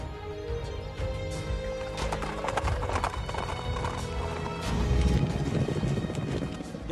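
Horses at a stallion ranch where well-bred horses are trained, bred and raced: steady clip-clop of hooves with occasional whinnies and thuds, moderately close and continuous.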